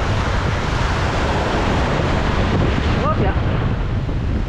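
Rough sea and strong wind hit a beach in a constant loud rush of surf and heavy gusts buffeting the microphone, with a brief voice heard through the noise.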